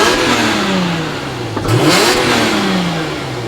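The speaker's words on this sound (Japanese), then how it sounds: "でこっちが NA のサウンド" A naturally aspirated engine in a Toyota Chaser Tourer S JZX100 is revved hard, its pitch climbing fast, then falling and rising again, loud and close with no talking.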